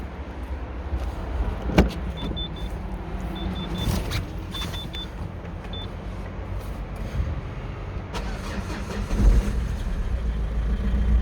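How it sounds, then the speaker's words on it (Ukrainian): A Renault Megane 2 with a 1.5 dCi diesel engine is started after a thermostat replacement, with mechanical clicks and whirs, a short cranking burst, then the engine catching and running into a low rumble near the end. "Заводю машину."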